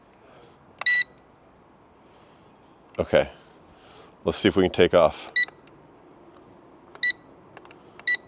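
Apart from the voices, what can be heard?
toy drone beeping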